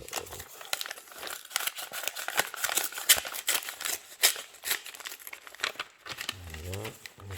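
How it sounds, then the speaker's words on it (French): A paper envelope of election voting material being torn open and its contents pulled out: close, loud crinkling and rustling of paper in irregular bursts, with a brief low voice near the end. "Voilà, on sort le matériel de l'enveloppe."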